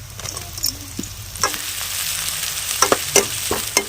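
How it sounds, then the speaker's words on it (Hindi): Onions with ginger and spices frying in oil in a pan for village-style aloo chole, sizzling steadily close up while a spoon scrapes and stirs them in quick irregular strokes, with no voices. "प्याज की हम फ्राई कर लेते हैं इस तरह से चला के।"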